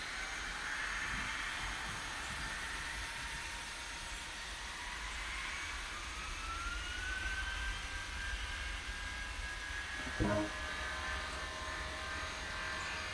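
An airliner taking off in the Tower Simulator 3 airport game, a steady broad engine roar with a slowly rising whine, heard alone at moderate distance.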